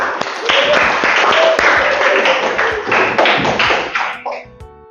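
An audience in a classroom presentation session claps for a group coming forward, dense applause with sharp hand claps that trails off near the end.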